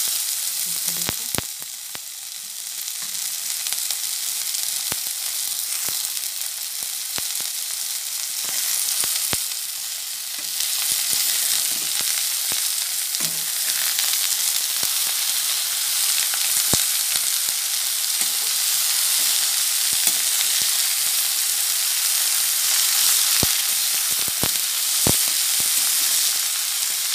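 Khukhri mushrooms sizzle steadily in a hot pan as they roast, a continuous bright crackling hiss with occasional sharp ticks and faint clinks throughout.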